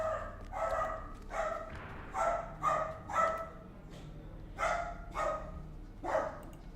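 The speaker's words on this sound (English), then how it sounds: "you guys can probably hear my dog barking." A rescue dog barks repeatedly indoors, a series of sharp, fairly close woofs in an uneven rhythm with short pauses, heard clearly over a faint background hum.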